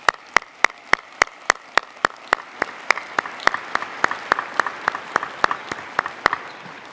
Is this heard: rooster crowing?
no